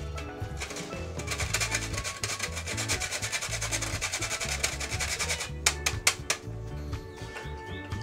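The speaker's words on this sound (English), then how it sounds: "Grate some nutmeg. Not too much because it's very strong." Nutmeg is grated by hand in a kitchen in Paramin, Trinidad, with fast, steady rasping strokes close to the listener. A brief pause near the end breaks the rhythm, and no one speaks.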